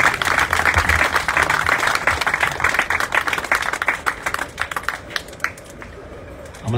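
A crowd at a community meeting claps loudly and densely, then the applause thins into scattered claps and fades out.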